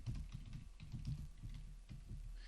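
Typing on a computer keyboard while entering a commit comment on GitHub, a steady run of quick, close key clicks with uneven rhythm throughout, no talking.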